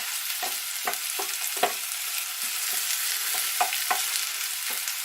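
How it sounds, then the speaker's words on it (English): Onions fry in a pan with a dense, steady sizzle, broken by repeated scraping stirs of a utensil at an uneven rhythm, close and clear with no talk. "Keep it stirring until the onion turns translucent."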